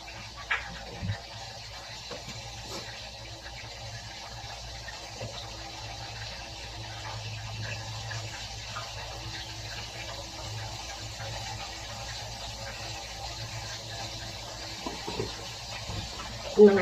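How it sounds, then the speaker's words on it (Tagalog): Water pouring into carrots for juice, a quiet, steady trickle running through the clip with a few soft knocks, low in level. "Tapos nilalagyan ko lang ito ng konting tubig."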